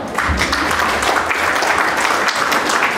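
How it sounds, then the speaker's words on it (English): Audience at a New Year celebration breaks into a round of applause, dense and loud clapping that runs at an even level from start to finish with no voice over it. "let's give every one of them a round of applause for helping us out."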